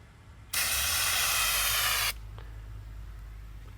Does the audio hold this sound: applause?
no